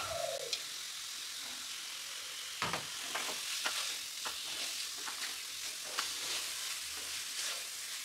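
Prawns frying in masala in a pan give a soft, steady sizzle with scattered crackles and light stirring clicks, fairly quiet and close, with no talking.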